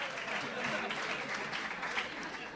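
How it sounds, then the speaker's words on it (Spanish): Faint, steady applause rises from an audience at a Spanish-language church talk, with a voice heard over the clapping. "No aplaudan,"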